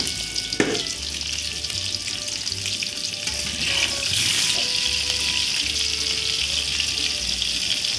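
Potato pieces frying in a pan with salt and turmeric powder, a steady close sizzle with occasional stirring scrapes, growing a little louder partway through.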